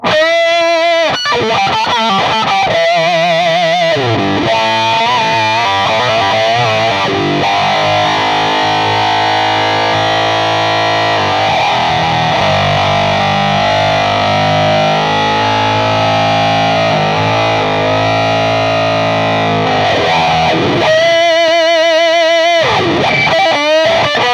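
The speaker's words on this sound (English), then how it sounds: "It's the drive and all the controls set for 12 on the Boss Octaver, Super Octaver" Electric guitar through a Boss OC-3 Super Octaver pedal with drive and all controls set at twelve, heavily distorted with a thick octave-down layer, chugging riffs opening into long sustained notes, loud and close with no talking.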